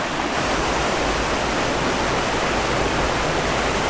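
A waterfall near Mauban, Quezon, pours with a dense, unbroken roar of rushing water, loud and close, holding steady throughout with no voices.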